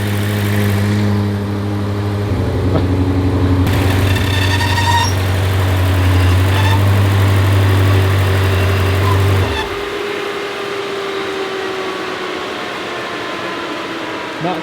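A built engine in a BMW F90 M5 idles loudly and steadily just after its first start, with a low rumbling drone and a change around the middle before settling to a quieter, rougher idle.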